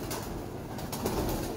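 Breeder pigeons on a rooftop loft coo in soft, low, continuous murmurs close by, with a faint rise toward the end and no talking.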